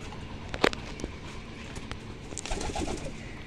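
Soft cooing from a pair of Mundi sada breed pigeons, one male and one female, close by in a loft, with a few light taps and rustles in a quiet space.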